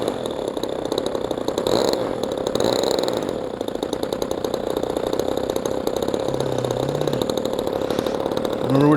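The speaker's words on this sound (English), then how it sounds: "Engine's running, I think, a little on the rough side." A 20cc gas engine on a Hangar 9 P-47 RC model plane runs steadily, a rough, buzzing drone that holds close and loud for the whole stretch.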